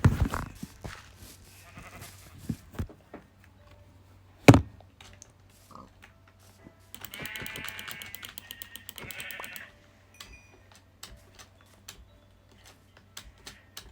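Sheep bleat in the video game Minecraft, heard as short scattered bleats and clicky game effects, with a louder bleating passage around the middle, fairly quiet overall and with no talk.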